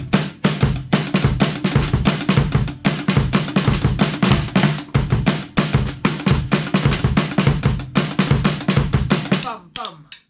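A drum kit plays a fast, dense groove of kick, snare and cymbal hits, loud and close throughout, ending abruptly with a brief voice afterward.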